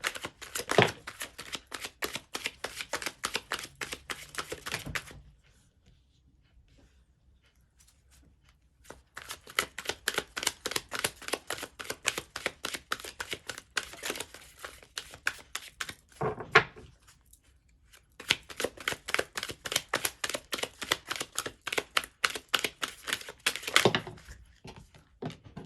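Tarot cards are shuffled and handled in long runs of rapid riffling flutter, close and crisp, broken by a few seconds of near silence and a brief pause before the shuffling resumes.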